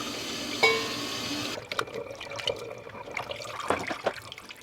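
Tap water running while goat meat is washed in a home kitchen, a steady gush that stops, followed by splashes, drips and handling noises close by.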